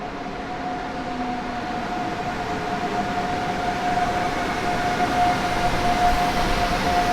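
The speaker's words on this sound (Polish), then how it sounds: "czekamy na wjazd pociągu do Berlina. Ekspres Intercity Berlin-Warszawa Ekspres." A PKP Intercity express train on the Berlin–Warsaw route rolls into Warszawa Zachodnia station, a steady rumble with a sustained whining tone that grows slightly louder as it approaches.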